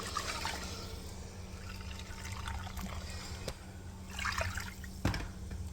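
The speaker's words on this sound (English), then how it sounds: "I'm gonna add hot water in there." Hot water pours and trickles steadily into a bowl, a soft continuous stream over a low hum, with a couple of faint clinks.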